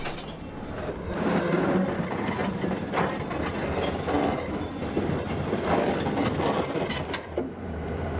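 A train carrying a Denver and Rio Grande caboose coupled to the Rio Grande Jeep rolls past, its wheels squealing loudly and continuously over a rumbling, clattering bed of rail noise.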